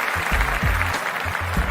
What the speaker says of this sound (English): I'm going to give a round of applause for that